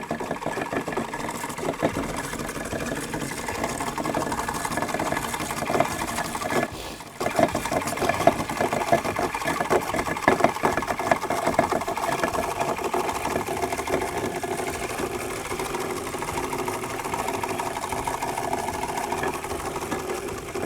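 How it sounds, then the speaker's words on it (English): Braided fishing line being reeled onto a baitcast reel's spool, a continuous whirring, buzzing mechanical hum that runs steadily at close range with one short pause midway. "So again, you're going to reel that line on there."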